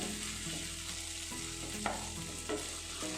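Tomatoes cooking down in a pan for an egg curry, a steady low sizzle with a spoon scraping and stirring through it, a couple of distinct clacks standing out near the end.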